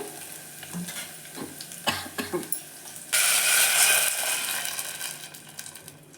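Tempering of crushed garlic, curry leaves and broken dried red chillies for rasam, heard first as a few scattered spoon scrapes in the pan, then as a sudden burst of loud, steady sizzling that slowly fades.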